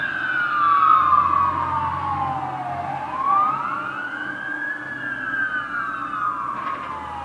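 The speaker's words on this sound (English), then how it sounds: "Also now I can finally hear some fire trucks around here." Fire truck sirens wailing along a city street in Detroit, a loud continuous siren sweeping slowly down and back up in pitch with a second siren overlapping, close and dominant over steady road rumble.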